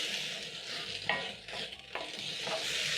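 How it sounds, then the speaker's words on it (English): Spices being stirred into omena, small fish frying in a pan, with a steady close sizzle and scraping stir strokes; no voices. "Stir in all the spices."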